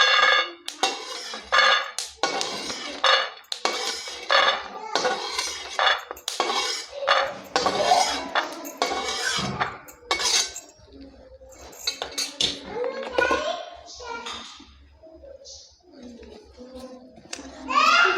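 Roasted peanuts are scraped out of a pan while making sesame ladoos, with close metallic clinks and clatter of utensil against pan as a person talks throughout.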